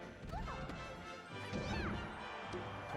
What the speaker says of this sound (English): Okay, down smashed against the wall.